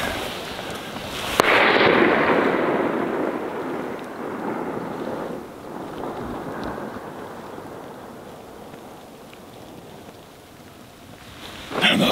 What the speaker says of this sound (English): We just heard a few shots.